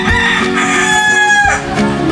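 Roosters crow loudly and close at a poultry farm near Davao City, with one long drawn-out crow over a backdrop of clucking chickens and fowl, no talk.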